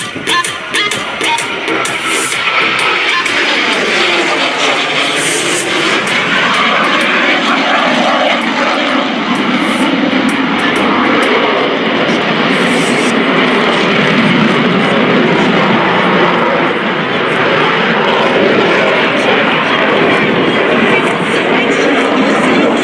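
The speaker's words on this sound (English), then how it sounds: "Now get your cameras ready for the Battle of Britain 75th anniversary pass of this beautifully" A Hawker Hurricane, a Battle of Britain-era propeller fighter, makes a loud anniversary pass at an airshow. Its engine drones steadily and swells as it passes, with a continuous roar throughout.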